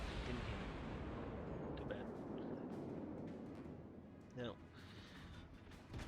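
Naval guns fire at battleships in a warship video game, a heavy rumbling boom that rolls and decays over several seconds, with a sharper report midway and distant thuds after.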